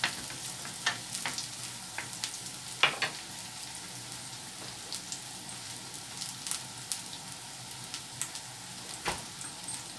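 Green chillies sauté in a pan over a low flame with a soft, steady sizzle, broken by scattered spatula clicks and scrapes every second or so. No one speaks.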